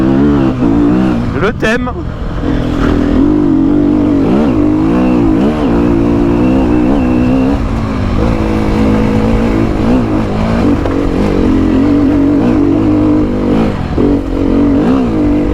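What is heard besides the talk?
Sherco enduro motorcycle engine revving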